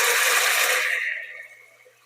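Regular tap water hitting a hot pan of pasta sauce with pepperoni, a loud hiss and sizzle that fades away over about two seconds.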